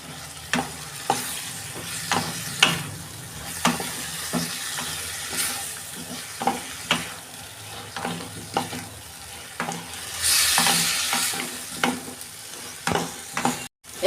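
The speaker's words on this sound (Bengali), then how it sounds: "এই আলু কপিগুলো একটু ভালো করে কষে নেব" Potatoes and cauliflower sautéed with spices in a pan, a steady sizzle punctuated by repeated sharp spatula scrapes and knocks, with a louder hissing surge partway through and no talking.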